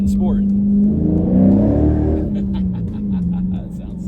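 A 2016 Dodge Challenger R/T Scat Pack with a six-speed manual in Sport mode: a steady low engine drone swells as it revs up, then settles back, heard from inside the car with someone talking over it.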